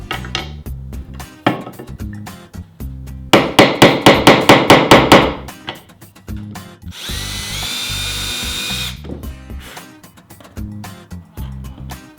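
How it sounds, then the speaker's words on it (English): Loud, close power drilling countersinking screw holes in wood: several short bursts, then a rapid series of rhythmic grinding pulses, and a sustained high-pitched whine lasting a couple of seconds. "I'm going to countersink those"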